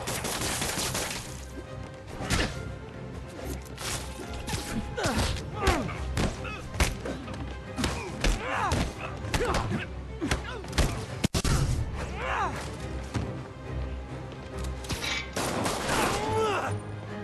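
Gunfire in the Spider-Man PS4 video game comes as repeated bursts of shots and heavy thuds across a chaotic fight, with people talking and shouting over it.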